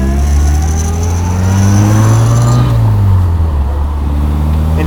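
A 1960 Bugeye Sprite with its 948 engine drives and accelerates, a loud, close, steady engine drone rising in pitch before easing off as it passes on a shoreline road.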